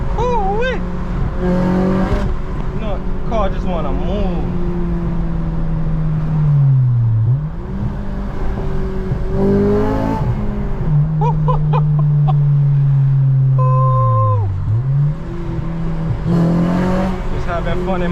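An 8th gen Honda Civic Si with VTEC revs hard while driving, its engine note climbing and dropping repeatedly through several pulls and gear changes, loud and close from the cabin.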